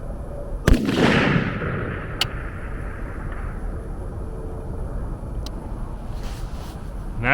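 A single sharp gunshot from an AR-pattern rifle firing standard military ammunition at a steel target, loud and close, followed by a long decaying rumble of echo over steady outdoor background noise.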